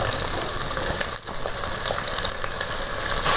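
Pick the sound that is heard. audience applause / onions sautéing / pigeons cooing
onions sautéing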